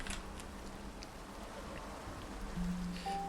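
Rain falling in a video game, a soft steady patter of drops with faint ticks, low in level and continuous, with a brief tonal game sound near the end.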